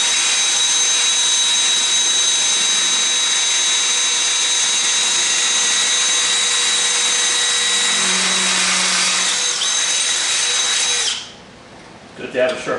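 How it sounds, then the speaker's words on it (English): A power drill with a freshly sharpened bit bores holes for mounting hardware, running loud and steady at close range for about eleven seconds before cutting off, leaving a quiet room. "I have everything set up here so I could drill."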